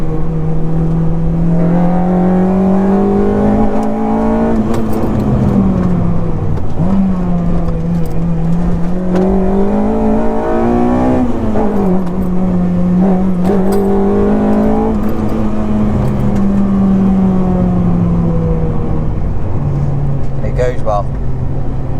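A Honda DC5 car engine on a dyno revs up and down repeatedly in long, rising and falling swells, loud and steady throughout, with a brief higher-pitched whine near the end.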